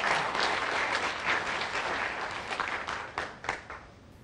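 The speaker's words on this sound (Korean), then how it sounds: "여러분 이럴 때 박수 한번 쳐도 됩니다" Audience applause at a Korean lecture, a dense, steady wash of many hands clapping at moderate level, thinning slightly toward the end.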